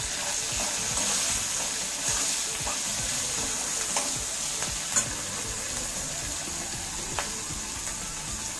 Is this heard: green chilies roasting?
yes